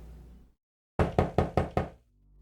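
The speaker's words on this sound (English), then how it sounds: "There's a knock at the door" Five quick, firm knocks on a door, close and loud in an otherwise quiet scene, coming in an even rhythm after a brief silence.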